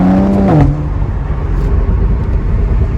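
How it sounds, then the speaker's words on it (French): A BMW Z4 with a 306 hp engine revving during a double-declutch downshift, a short rising engine blip falling into a loud steady drone, heard from inside the car. "Ce double débrayage, on l'entend sûrement dans la vidéo, il est vraiment sympa."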